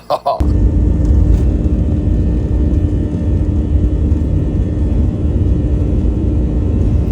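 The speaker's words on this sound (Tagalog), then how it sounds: "Tapos ito naman tamang pa-take off pa lang yung eroplano pre." An airplane taking off, a loud, steady engine roar and rumble that starts abruptly and holds close and continuous throughout, with talk over it.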